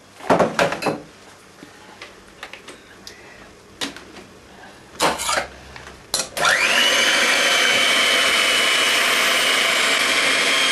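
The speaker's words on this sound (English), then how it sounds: "I'm going to move to where the mixer is and I'm going to whisk the egg whites first" An electric mixer whisking egg whites for a lemon bombe, starting after a few clunks and knocks and then running as a loud, steady, continuous whir to the end.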